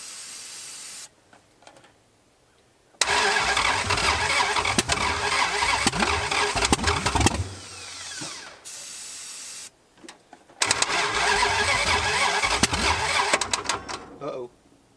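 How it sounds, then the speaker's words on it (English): A starter motor cranks the seized engine of a crushed, long-dormant Dodge Charger in two loud, harsh bursts of grinding and whirring, separated by quiet gaps, with a brief voice near the end. "This starter is not happy."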